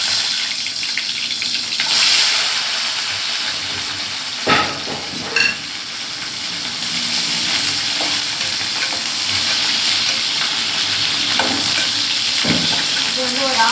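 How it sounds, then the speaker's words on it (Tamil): Okra (lady's finger) frying in hot oil for a tamarind curry, a loud continuous sizzle with stirring, brief sharp clatters and a stretch of running tap water in a home kitchen. "இப்போ பார்த்திங்கன்னா வெண்டைக்காவை பொறிச்சு எடுக்கணும்"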